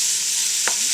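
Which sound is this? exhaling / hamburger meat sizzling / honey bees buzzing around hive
hamburger meat sizzling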